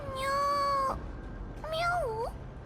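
A cat in the video game Honkai Star Rail meows twice, clearly and up close. The first meow is long and steady, and the second rises and falls after a short pause.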